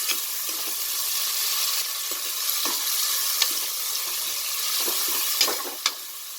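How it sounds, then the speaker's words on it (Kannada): Sliced onions frying in a pan for a chickpea pulao, a steady moderate sizzle close by, broken by several sharp clicks and scrapes of stirring. "ಈಗ ಆನಿಯನ್ ಆ್ಯಡ್ ಮಾಡ್ತಾಯಿದ್ದೀನಿ, ಸ್ಲೈಸ್ಡ್ ಆನಿಯನ್ನು. ಚೆನ್ನಾಗಿ ಫ್ರೈ ಮಾಡ್ಕೊಳ್ಳೋಣ."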